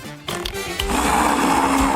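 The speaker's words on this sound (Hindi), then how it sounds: "ब्लेंडर में सब कुछ डालें और मिलाएं" A kitchen blender starts up and whirs steadily at high speed, loud and close, as it purées yogurt, sugar and greens into a smooth mix.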